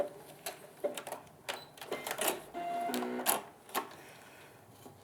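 A sewing machine lock-stitches an appliqué block in short, quick bursts of rapid mechanical stitching, with clicks and a brief whir, fairly faint and close.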